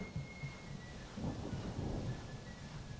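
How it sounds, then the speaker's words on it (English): Thunderstorm rolling through a Civil War battlefield in the strategy game Grand Tactician: The Civil War, with rain hiss and low, rumbling thunder swelling midway, steady and moderately quiet with no talk. "And we got a thunderstorm rolling through too, which is not going to help."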